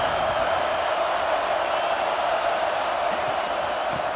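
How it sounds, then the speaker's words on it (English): Stadium crowd in a Madden college football game with Penn State, a steady dense roar of cheering spectators throughout, loud and continuous with no clear breaks. "Listen to the crowd energy here in the early going. This is a tough environment for visitors."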